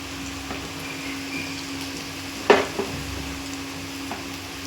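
Masala of tomato, coconut and cashew fries in oil, a low steady sizzle broken by a sharp clatter of a spoon against the pan midway and a few lighter knocks.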